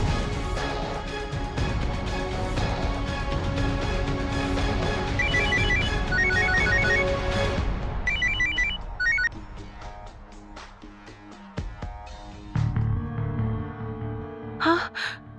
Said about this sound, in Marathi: नीलने माझा फोन का नाही उचलला?